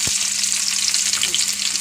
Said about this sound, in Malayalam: എണ്ണ ചൂടായി ഉള്ളി ഇടാം.